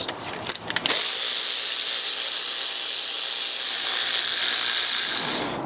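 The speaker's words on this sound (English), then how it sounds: "I should be able to just unbolt the EGR cooler now." A ratchet wrench undoes Allen bolts on a diesel engine's EGR cooler, a brief run of close, sharp metallic clicks followed by a long steady hiss of broadband noise.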